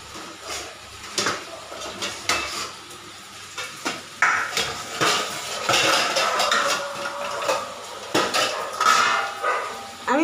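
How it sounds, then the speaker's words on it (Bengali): A metal lid set down on a tawa while chicken rezala cooks, with clattering metal-on-metal knocks and scrapes over a low sizzle, close and fairly loud, no voices. "আমি দেখুন একটা ঢাকনা বসিয়ে দিচ্ছি, চাপা দিয়ে দিচ্ছি।"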